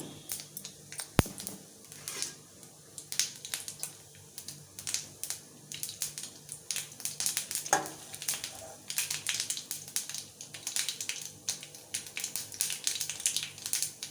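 Mustard seeds with urad dal and asafoetida splutter and crackle in hot oil for tempering, a steady stream of quiet sharp pops up close, growing busier toward the end.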